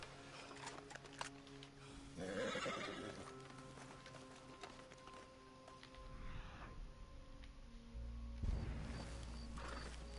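A horse in the video game Red Dead Redemption 2 whinnies loudly around two and a half seconds in, with softer snorts and hoof clip-clops after it over a low steady game ambience.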